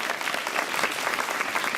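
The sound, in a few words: audience applause at gala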